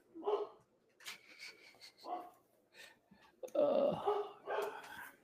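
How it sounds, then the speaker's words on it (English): A dog gives a string of short, separate barks and yips at close range, with uneven pauses between them and one longer, louder burst near the end. "here comes the dog"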